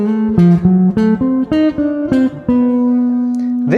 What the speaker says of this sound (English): Now let's go to the next part of this jazz blues solo etude.